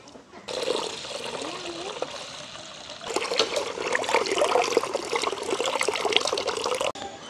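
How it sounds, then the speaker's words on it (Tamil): Water splashes and trickles steadily nearby, with sloshing as lentils are swirled and rinsed in a bowl, continuing for several seconds. "பருப்பை வந்து நாங்கள் 2-3 தண்ணியில் நல்ல வடிவாக பிணைஞ்சு கழுவி எடுப்போம்."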